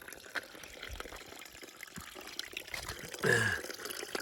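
Spring water trickling into a soft collapsible water bag held at a small pool on the Appalachian Trail in the Smokies, a quiet close gurgle and trickle that swells briefly into a fuller pour.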